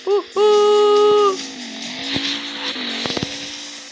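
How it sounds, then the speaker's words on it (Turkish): A car in a racing video game screams at full throttle, the engine note holding a high steady pitch before dropping into a lower drone with a brief burst of sharp clicks near the end. "Son hız gaza basıyoruz arkadaşlar."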